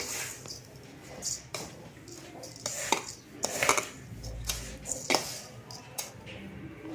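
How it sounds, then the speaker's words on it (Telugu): Karjakaya dough being mixed by hand in a bowl for a Sankranti sweet, giving soft squishy kneading with scattered sharp taps and clinks against the vessel, fairly close and uneven in rhythm, with no talking. "ఫస్ట్ మొత్తం కలిపి మళ్ళీ ఇంకో కొంచెం కలుపుకున్నాం మంచిగా మిక్స్ అవ్వాలి ఇలా"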